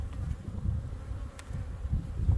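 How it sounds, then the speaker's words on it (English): Honey bees hum in a dense, continuous buzz from an opened, crowded hive during a spring inspection, close and steady, with no talking. "Colony's clear full of bees."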